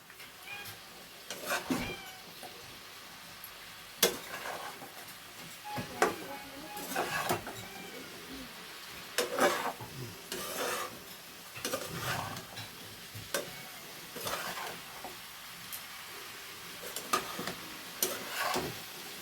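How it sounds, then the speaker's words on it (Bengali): Beans, potatoes and fish being stirred together in a hot pan over high heat, with repeated scraping strokes over a low sizzle and occasional background sounds. "এবার এগুলোকে একসঙ্গে করে আঁচটা জোরে করে দিলাম, ভালো করে মিশিয়ে নেব শিম আর আলুর সঙ্গে"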